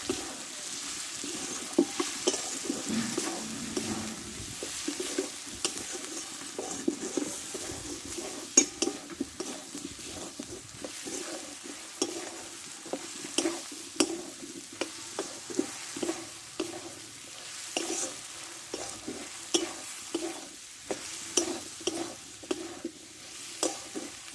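Cumin, turmeric and chili powder masala frying in a pan for Bengali ghugni, a fairly quiet sizzle under repeated scraping and clinking of a spoon against the pan, irregular strokes throughout, no speech.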